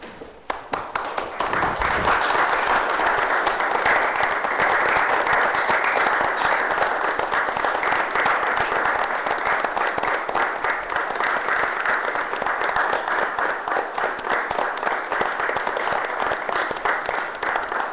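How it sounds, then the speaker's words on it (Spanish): A minute of applause from an academy assembly in memory of deceased academics: a dense, loud, sustained wash of clapping from a large audience, holding steady with no speech for the full stretch. "hagamos un minuto de aplausos a los académicos muertos"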